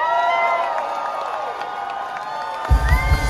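A dense concert crowd cheers and whistles steadily, with applause and whoops building toward the end.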